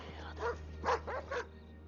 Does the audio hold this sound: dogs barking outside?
yes